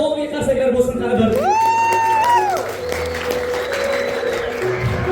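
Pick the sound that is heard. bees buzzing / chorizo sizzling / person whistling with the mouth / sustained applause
sustained applause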